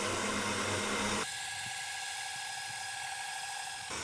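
A stand mixer kneads bread dough with a dough hook, its steady motor whine running loud and continuous, shifting to a higher, thinner tone partway through and then stopping abruptly near the end.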